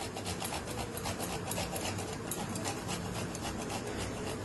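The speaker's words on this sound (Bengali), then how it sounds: "উপর দিয়ে একটুখানি আমি জায়ফল গুঁড়ো করে দিচ্ছি।" Nutmeg grated by hand over marinated chicken for a Jodhpuri chicken dish, heard as a steady close dry rasping scrape that continues without pause throughout, with no voices.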